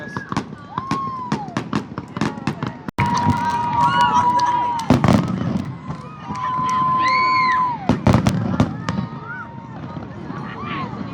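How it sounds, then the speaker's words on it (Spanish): Fourth of July fireworks show at night in the United States, with repeated sharp bursts and rising whistles, some near and loud, against a crowd cheering and children shouting. "Ya empezó el show de fuegos, amigos, miren."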